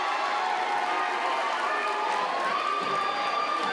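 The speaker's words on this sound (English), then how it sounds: "These fans are going to cheer and shout and let it all out" High school basketball fans packed into a gym, a continuous roaring wash of crowd cheering and shouting that holds steady throughout.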